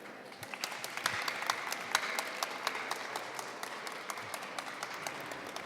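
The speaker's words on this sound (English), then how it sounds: "Give them another round of applause." Audience applause follows a student science presentation on solar power at sea, a soft, continuous patter of many hands with sharper individual claps scattered through, moderately distant and fairly quiet.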